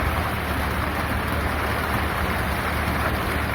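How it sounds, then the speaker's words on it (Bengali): Steady, dense rain pours down continuously with a broad hiss and low rumble, loud and unbroken throughout, with no voices. "বড় বড় বৃষ্টি পড়া হচ্ছে"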